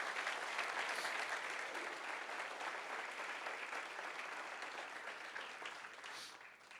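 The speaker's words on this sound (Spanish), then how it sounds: "¿Cuántos le dan un aplauso al Señor?" A church congregation applauds together during a sermon. The clapping is faint and distant, a dense and steady patter that fades slightly toward the end.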